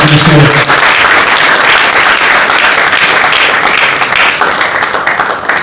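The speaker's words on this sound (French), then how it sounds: "Est-ce qu'on peut applaudir pour l'artiste, mesdames et messieurs?" A crowd at an awards show applauds an artist with loud, sustained clapping that fills the whole stretch, backed by a roar of cheering, and trails off slightly toward the end.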